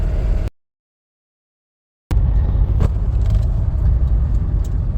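A cheap Mercedes W123 drives along a road with a steady, broad rumble of engine and road noise. The sound drops out to silence for over a second, then the same continuous driving noise resumes.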